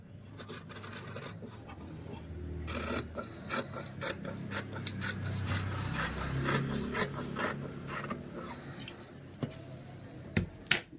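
Scissors cut through blouse fabric for a princess-cut blouse, giving repeated close crisp snips and rasping slides of the blades over a cutting surface.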